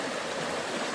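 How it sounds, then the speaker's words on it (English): River water flowing steadily over rocks, a close, continuous rushing hiss with no voices. "that the water is flowing."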